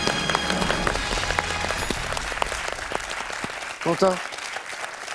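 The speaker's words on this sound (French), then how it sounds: "Moi, j'applaudis." Studio audience applause on a French TV quiz show, dense steady clapping that fills the room and fades as a voice speaks briefly near the end.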